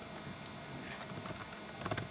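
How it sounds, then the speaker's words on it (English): Quiet typing of code on a computer keyboard, soft irregular key clicks against a low steady hum, with a small burst of keystrokes at the end. "What I'm typing inside the if brackets."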